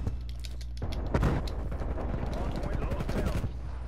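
AK rifle fire rattles in quick bursts during a Call of Duty Cold War Hardpoint match, with sharp shots and a heavier impact near the start, all under a player talking.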